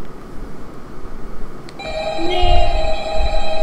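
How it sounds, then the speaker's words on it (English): A telephone rings in the Fredbear's Fright video game, its bright electronic trill starting partway in and carrying on steadily and loud over a low rumbling background. "there's the phone"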